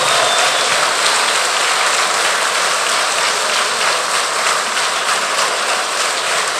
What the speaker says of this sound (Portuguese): Vamos dar um aplauso ao Senhor nessa noite?